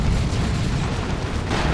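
A lascannon fires during a Dawn of War 2 battle, heard as one continuous, loud, dense roar of explosive noise that stays broad and sustained throughout.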